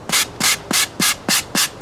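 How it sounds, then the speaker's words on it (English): Sandpaper scrubs spackle filler on an RC Emirates 777-9X airliner model in six quick, even back-and-forth strokes, close and loud. "even when I finish this first process of sanding, I'm going to find little divots and problems"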